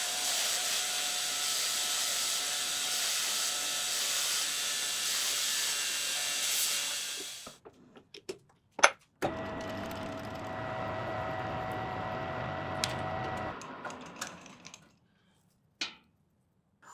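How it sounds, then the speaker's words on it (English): A Dremel rotary tool with cheap burrs grinds down a weld on a homemade industrial machinist's chair, a loud, steady high-pitched whir running about seven seconds, then a brief pause with clicks and a second, slightly lower-pitched grinding pass of about four seconds. "it actually only took a few minutes using these cheap burrs in the Dremel"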